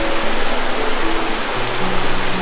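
A small river cascade pours into a whirlpool, making a loud, continuous rushing roar of falling water that stays even throughout, with no talking.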